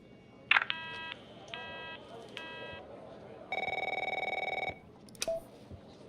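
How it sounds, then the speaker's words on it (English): Telephone in the video game The Operator rings in short repeated electronic bursts, then a longer sustained tone, with faint clicks between, heard clearly with no talk over it. "My phone's ringing off the hook here."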